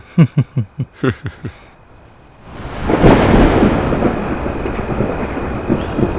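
A horror-film storm scene: a run of six or seven evenly spaced dull thumps gives way to a loud, rolling thunder rumble that settles into steady rain.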